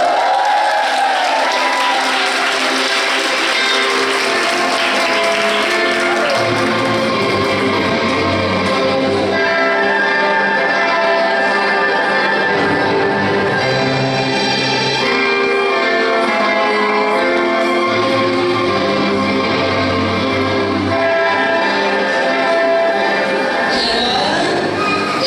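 A church audience at a wedding vow renewal gives sustained applause to welcome a couple married twelve years, a dense, steady wash of clapping with some cheering, loud and continuous.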